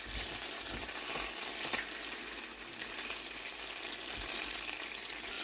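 Bread slices frying in butter in a pan for a banana bread pudding, being turned over: a steady, close, broadband sizzle runs throughout with a brief clatter near the middle, no voices.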